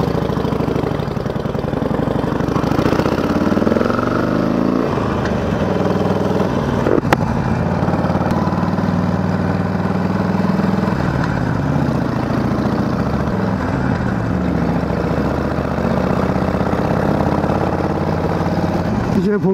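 A motorcycle engine idles with a steady low chug, close by and continuous, with light background noise around it.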